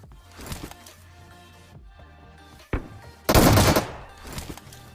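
Loud gunfire from a shotgun, an S12, in the mobile battle royale game PUBG Mobile, with several sharp shots and a dense burst of blasts near the end over in-game background noise.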